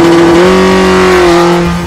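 Race car engine held at steady high revs for a launch with the handbrake on, a loud, close, sustained drone that dips slightly in pitch before fading.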